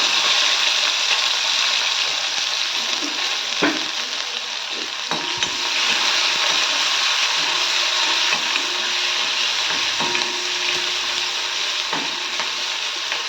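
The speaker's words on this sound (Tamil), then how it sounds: "இந்த வெங்காயம், பூண்டு தட்டினது 2ம் போட்டு நல்லா வதக்கிக்கலாங்க" Onion and crushed garlic sauté in hot oil in a pan for a brinjal and potato fry, giving a steady, loud sizzle with occasional scraping stirs throughout and no voices.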